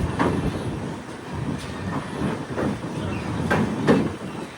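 The Matsyagandha Express runs along the tracks between Kerala and Goa, a steady rumble broken by repeated clickety-clack wheel beats and rail knocks.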